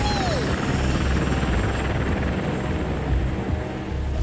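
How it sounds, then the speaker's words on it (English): A helicopter in the video game Bayonetta thrums loudly and continuously with a steady rotor beat and roaring engine, close and dominant throughout. "Wait, who's flying the helicopter?"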